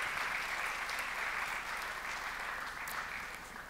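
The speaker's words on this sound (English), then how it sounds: "So please give a big applause to Ceri Jones." An audience at a social enterprise talk gives a continuous, even round of applause that stays full and steady and tapers slightly toward the end.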